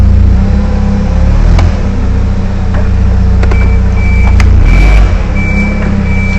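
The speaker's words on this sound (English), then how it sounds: "Release the parking brake, put the truck in gear, let the truck go forward," Forklift truck engine runs loud and steady close by, with a couple of sharp clunks and a brief surge as it drives forward and brakes, while a high warning beep sounds intermittently.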